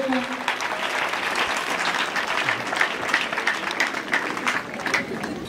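A church congregation applauds during worship in praise of Jesus Christ. The clapping is dense and steady for the whole stretch, with voices mixed in.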